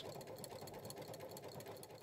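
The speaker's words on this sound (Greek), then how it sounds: "Ξεκινάμε λοιπόν το γάζο μα στη ραπτομηχανή μας με προσοχή να τροφοδοτούμε σταδιακά το υλικό" A domestic sewing machine runs a steady straight seam through fleece fabric for a dress, fed gradually against a magnetic seam guide. The motor hum and rapid needle rattle stay close, continuous and even throughout, with no voices.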